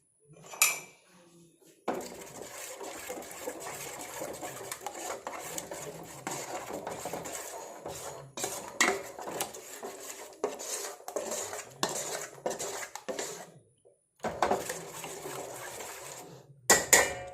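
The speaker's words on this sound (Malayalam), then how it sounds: "ആദ്യം ഇങ്ങനെ കുറച്ച് സമയം മിക്സ് ചെയ്ത് വെക്കണം" Banana fritter batter for pazhampori is mixed in a bowl, with a spoon scraping and clinking against the sides in close, busy bursts broken by a few short pauses.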